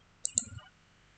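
A computer mouse gives two quick, crisp clicks close up in an otherwise quiet room, followed by a faint rattle.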